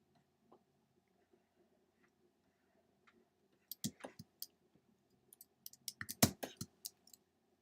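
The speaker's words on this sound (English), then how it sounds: "I gotta try and make this keyboard less clattery" A clattery computer keyboard clicks in quiet, sparse taps and then a quick flurry of typing, fairly close and soft against a faint background hum.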